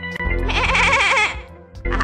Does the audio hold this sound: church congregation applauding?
no